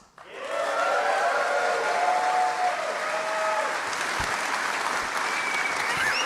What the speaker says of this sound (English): Like how the subtitle says, screaming applause.